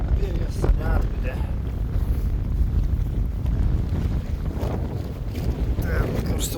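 Strong wind buffets the microphone at a lake during fishing, a loud continuous rumbling roar with gusts and faint water sounds, steady throughout.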